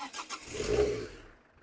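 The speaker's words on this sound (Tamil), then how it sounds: "வண்டி கிளச்சை பிடிச்சி தான் ஸ்டார்ட் பண்ணோம்" Car engine cranking and catching with the clutch held down, a short rising rumble that swells, then fades within under two seconds.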